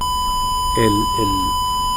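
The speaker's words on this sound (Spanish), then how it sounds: "¿cómo se llama? La alarma." Door alarm sounding two short electronic beeps about half a second apart, loud and close over a steady high tone and background hum.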